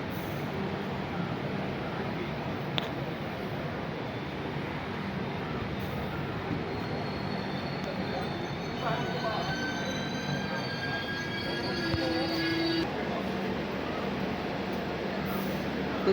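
Jaipur Pune Express train at Vasai Road station platform: a steady rumble of rail noise with faint squealing tones from wheels or brakes midway, heard at a moderate distance under general station bustle.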